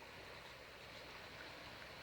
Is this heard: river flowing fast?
yes